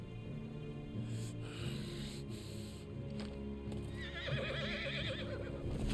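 A horse whinnies with a wavering, high neigh near the end in Final Fantasy XVI, over a steady game ambient bed with some clip-clop and rustling earlier.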